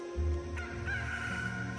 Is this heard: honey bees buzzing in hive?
no